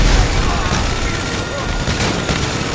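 Heavy gunfire erupting during a Grand Theft Auto V bank heist, loud continuous bursts and booms layered densely with rumbling explosions, close and relentless.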